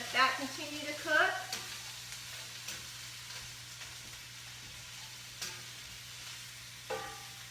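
Broccoli and tofu stir-frying in a skillet for an orange-ginger stir fry give a soft, steady sizzle with a few clattering stirs near the start, over a low constant hum.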